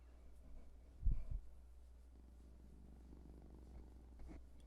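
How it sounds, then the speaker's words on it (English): A pet cat purrs close by in a quiet indoor room, a soft low rumble that swells briefly around the one-second mark, then continues faintly alone. "I don't know if you can hear him purring."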